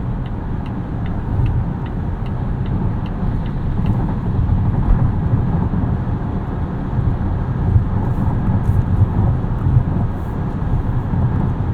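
A 2022 Volvo XC60 T8 Polestar Extended Range plug-in hybrid accelerating to highway speed, a steady low cabin rumble of road and engine noise with faint ticking, heard from inside, no talk.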